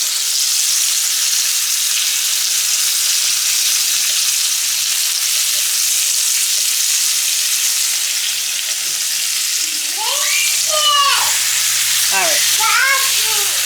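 Pork chops frying in a hot pan give a loud, steady sizzle throughout, with someone speaking briefly near the end.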